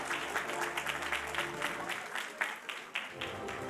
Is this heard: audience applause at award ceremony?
yes